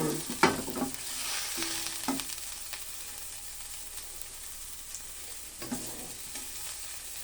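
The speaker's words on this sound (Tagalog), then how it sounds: "Susutin muna natin ang ating luya at saka konting mantika lang" Ginger sautéed in a little oil in a pan, with a soft continuous sizzle and a few sharp utensil clanks and scrapes near the start and end.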